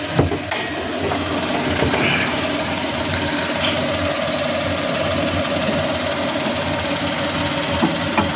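A 2016 Suzuki Celerio 1.0-liter three-cylinder, 12-valve A10V engine idles with the hood open, giving a steady, even mechanical hum with light ticking, heard close and alone.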